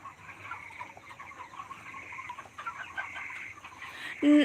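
A flock of broiler chickens clucks and murmurs steadily at close range, with a louder squawk near the end.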